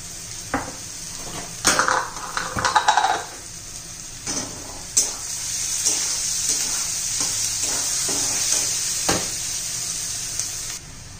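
Onion browns in oil in a pan, with a broad steady sizzle, a cluster of metal spoon clatters early on, and occasional single stirring knocks, close and without talk.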